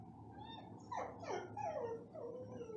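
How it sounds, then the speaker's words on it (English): A pet dog whimpers and whines at a door, wanting to be let in, with a few rising and falling high-pitched cries over a short span, fairly close and alone without talk. "And my dog's wanting to get in."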